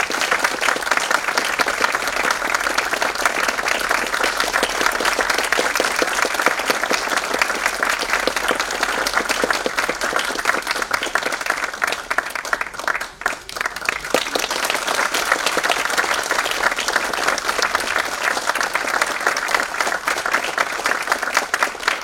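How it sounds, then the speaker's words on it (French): An audience applauds two performers after a pansori performance. The clapping is sustained and dense, steady across the whole stretch, with no speech. "Je vous propose donc de remercier Madame Kim Soo-jin et Madame Lee Hyang-ha de leur prestation en les applaudissant chaleureusement"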